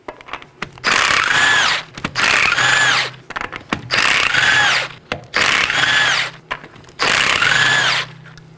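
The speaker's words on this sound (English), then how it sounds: "Now let's go ahead and remove our right rear wheel. There are 5 19mm lug nuts." Five loud bursts of a power impact tool spinning off the 19mm lug nuts on the right rear wheel of a 2018-2024 Chevrolet Equinox, each whirring rattle lasting about a second with short pauses between.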